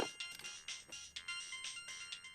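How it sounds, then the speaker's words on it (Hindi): A phone ringtone plays in a repeating electronic melody, moderately loud and close, with no voices over it. "तुम्हारा फोन उठाओ ना यार"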